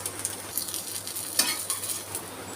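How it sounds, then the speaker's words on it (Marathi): A rice uttapam fries in ghee on a pan with a gentle, continuous sizzle, broken by light clinks and scrapes of a utensil nearby. "आता ह्यालाच असंच आपण दोन मिनटं शेकून घेणार आहोत दुसऱ्या साईडने थोडंसं तूप घालून घेत आहे मी"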